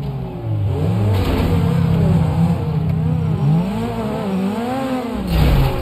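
A car engine in GTA V revs up and down over and over while driving, its pitch rising and falling in wavering sweeps, loud and steady with no talk.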